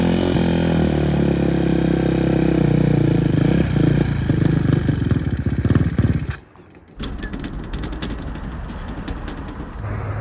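A KTM 450 engine on a buggy build runs loud and close with a rough, clattering rumble, briefly cuts out to near silence, then sputters back with ragged rattling.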